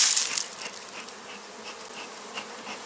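Steady insect buzzing of agitated honeybees in a hive, a dense droning hum with a slightly louder burst at the start, no voices.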